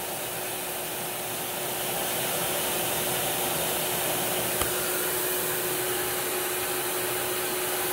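A Royal 4700 Powertank vacuum cleaner runs continuously with a loud, steady airy roar and a faint whine, its pitch barely changing throughout, with no voices.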